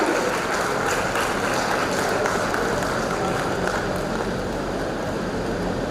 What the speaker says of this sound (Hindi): हमारी नारी शक्ति के लिए कृपया जोरदार तालियां बजाएं